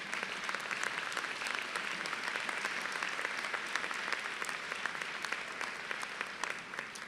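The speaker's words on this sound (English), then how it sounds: "Please give them a round of applause again." A crowd applauds steadily at a graduate commencement ceremony, dense clapping holding at an even level for several seconds.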